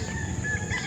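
Chickens at a farm cluck softly in a brief, close, low murmur of fowl sounds, with no talking.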